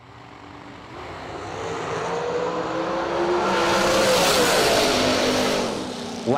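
Drag race cars launching side by side at the Boonville, Indiana racetrack, a loud sustained engine roar building and rising in pitch over several seconds, with a brief burst at the end.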